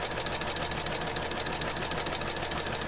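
A sewing machine runs steadily, stitching a scrappy fabric journal cover with a fast, even mechanical whir and rapid needle rhythm throughout, close and continuous with no talking.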